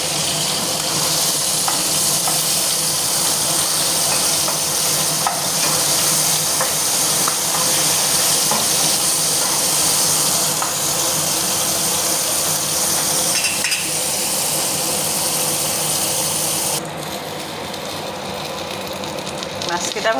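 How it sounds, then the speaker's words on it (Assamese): Climbing perch fish fry in hot oil in a wok, giving a loud, continuous sizzle and crackle that holds steady for most of the stretch, then softens near the end. "মাছখিনি ভাজি আছোঁ।"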